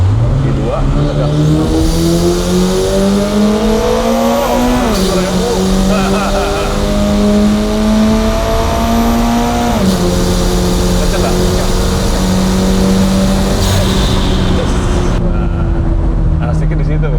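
A Subaru BRZ with a naturally aspirated engine revs hard after a downshift into second gear, its pitch climbing steadily, dropping at each shift and climbing again, loud and close from inside the car.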